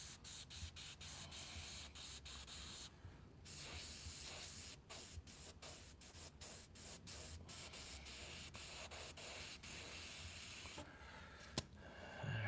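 An airbrush sprays paint onto a guitar body in a run of short, sharp hissing bursts, then longer steady jets with brief pauses, close and clear with no speech.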